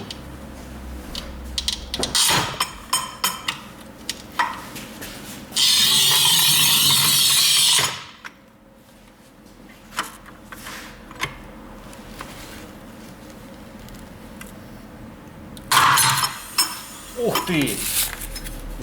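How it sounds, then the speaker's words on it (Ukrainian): A manual tile cutter works a strip of rough, textured porcelain stoneware, with clanking and ratcheting handle movements, a sustained loud scoring stretch, then a sharp snap and further clatter; occasional voices talk around it. "такий нерівний, бачите, структурований, е, шероховатий керамограніт, міцний порізати. Це дуже складно таку полоску."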